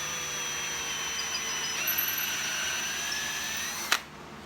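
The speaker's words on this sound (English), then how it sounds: "now I'm going to drill a pilot hole for my 3/8 inch hole." A power drill boring a pilot hole for bunk bed construction whirs steadily for several seconds, pitch shifting slightly as it bites, then stops abruptly with a brief click.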